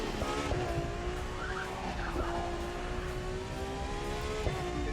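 Tires skidding as a car drifts in a racing game driven with a Logitech G923 wheel: a steady, loud squeal rides over the constant engine roar throughout, with the pitch wavering slightly.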